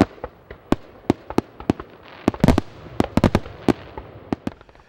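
Fourth of July fireworks at the Packard Proving Grounds in Shelby Township crackle and pop in an irregular string of sharp bangs, some in quick clusters, with nobody talking.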